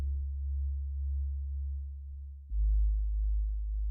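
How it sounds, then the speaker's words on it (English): Synthesized sine wave bass tone, a pure low steady hum that drops to a deeper, louder pitch about halfway through and then holds, heard alone without voices. "is a sine wave bass, which is just like a big hump"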